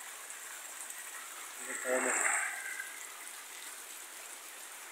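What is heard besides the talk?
heavy rain and flowing water during a storm in El Salvador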